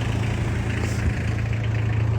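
A 1996 Mitsubishi Fuso Canter double-cab 4x4 with its 4M40 diesel idles steadily up close, a low, even clatter holding a constant pitch from start to finish with no voices.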